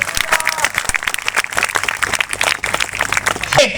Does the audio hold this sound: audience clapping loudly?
yes